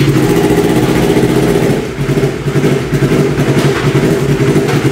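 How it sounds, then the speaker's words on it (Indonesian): A Yamaha R25 motorcycle fitted with a Prospeed Python series exhaust idles loud and close, a steady throbbing burble with slight uneven wobbles and no talking. "kita akan langsung ngetes aja seberapa besar decibel meter yang dihasilkan dari knalpot Python series by Pro Speed"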